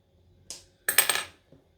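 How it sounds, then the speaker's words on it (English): Metal snips trimming thread tails after machine sewing a bag: a small click, then a quick cluster of crisp metallic snips, and a faint final tick, all close and fairly quiet. "I've got my snips here. Trim off all of the tails."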